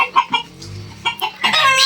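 Village chickens and a rooster clucking close by in a quick run of loud, choppy calls with short gaps, rising into busier overlapping clucks at the end.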